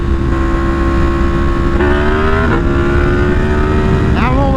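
Yamaha MT10 motorcycle engine accelerating hard with a quick-shift upshift, the loud, steady roar rising in pitch before brief drops at each gear change, heard close up with constant wind rush.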